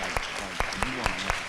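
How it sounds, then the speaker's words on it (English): An audience at an artists' panel event claps in a steady burst of applause, with scattered louder claps standing out and a voice speaking over it. "Give yourselves a round of applause."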